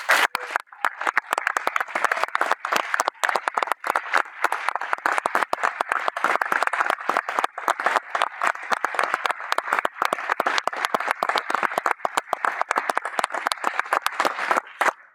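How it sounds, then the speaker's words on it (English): Audience applause for new members and their escorting past presidents at an APSA ceremony, a dense, steady round of clapping from a large crowd that fills the whole stretch without pause. "can you just stand for a big round of applause?"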